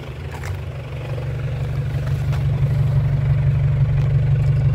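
Steady idle of an Isuzu Panther diesel engine without a turbo, heard at the exhaust: a close, constant low rumble with a faint clatter, gradually growing a little louder.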